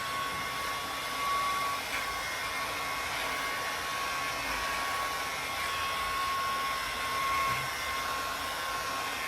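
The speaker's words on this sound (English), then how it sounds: "you click it once to turn on the trimmer and then twice to turn on the vacuum" A vacuum beard trimmer runs with its suction switched on, giving a steady, close whirring hiss with a constant motor whine and no breaks.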